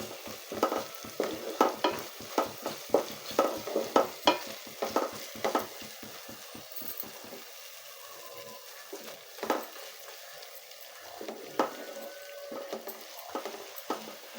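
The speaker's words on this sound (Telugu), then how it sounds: "మసాలా కూడా బాగా గోల్డెన్ బ్రౌన్ కలర్లోకి వచ్చేసిందండి, బాగా ఏగిపోయింది" Masala for chicken curry fries in oil, a ladle scraping and stirring in quick regular strokes for several seconds, then slower occasional stirs over a quieter sizzle, no talking.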